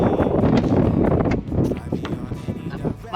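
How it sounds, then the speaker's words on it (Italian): Cold wind gusts roughly in the high mountains of Morocco, buffeting the microphone close up, with a loud steady rumble that eases slightly after the first half. "Ma più che la temperatura c'è un vento freddissimo"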